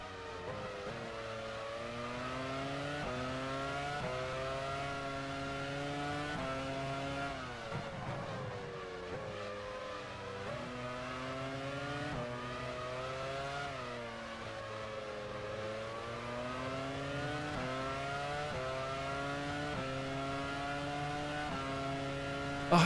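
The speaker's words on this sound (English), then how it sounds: "Oh, I do miss the sound of V10 engines." V10 Formula 1 cars in the racing game F1 Challenge 99-02 scream steadily at high revs, the pitch rising through gears with brief dips on shifts, a loud continuous engine note with no talking.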